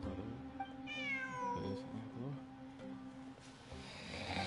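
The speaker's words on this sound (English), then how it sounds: "Look, a cat." A cat meows repeatedly in Genshin Impact, a few rising, wavering calls close by over game ambience and music, with a quieter mew or two following.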